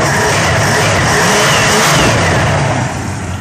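Engine of a 1987 Jeep Grand Wagoneer revving up loudly and steadily close by, a continuous rising and holding roar that eases off slightly at the end.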